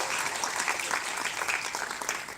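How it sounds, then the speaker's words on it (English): Audience applause at a formal public gathering honouring a speaker, a dense steady wash of many hands clapping that fills the short moment at a fairly loud, even level. "Let's give her a huge round of applause, all of you."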